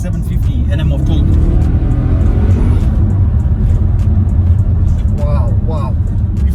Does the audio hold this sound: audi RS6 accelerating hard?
yes